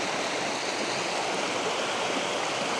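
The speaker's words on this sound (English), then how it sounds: "Is that a weir? I guess it must be." Water pours steadily over a river weir on Dartmoor near Belstone, a loud continuous broadband rush close by with no breaks and no voices.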